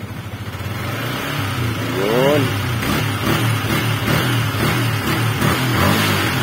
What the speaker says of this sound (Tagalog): ngayon testing natin iangat yung throttle, no, para malaman natin kung maganda na yung pick up ng makina